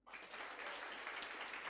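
A brief burst of audience clapping rises quickly and holds as a faint, dense patter of many hands for under two seconds.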